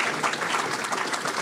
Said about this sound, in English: How about a round of applause for Donna and Brianna,